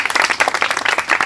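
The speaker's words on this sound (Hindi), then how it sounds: "कम ऑन, ताली बजाओ इस बच्चा के लिए।" Schoolchildren at an outdoor quiz competition clap for a classmate's correct answer, a brief burst of quick, uneven handclaps close by.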